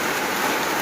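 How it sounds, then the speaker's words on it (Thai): Steady morning rain pours without letup, a dense, even hiss of drops striking surfaces close by, with no voices. "ฝนตกก็แต่เช้ายังบ่ขาดสายเลย"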